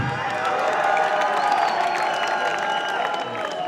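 Crowd clapping and cheering at a live concert with Burundian artists on stage, a steady dense roar of applause with scattered whoops sustained throughout.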